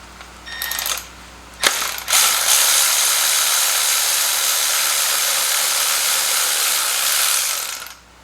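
A socket wrench ratchets steadily while loosening a spark plug on a Subaru BRZ, a close, loud, continuous clicking run lasting several seconds after a couple of brief knocks.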